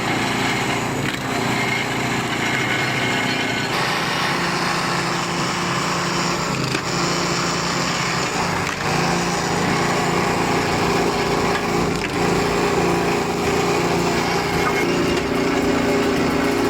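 A hand-crank-started firewood processor with a reinforced steel wedge runs its engine continuously and loudly, a steady droning whine with slight shifts as it works through logs, no voices.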